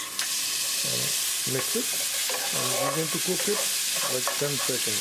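Ginger, garlic and green chili paste sizzles in hot oil with cumin seed while a spoon stirs it, a steady frying hiss under a voice talking throughout.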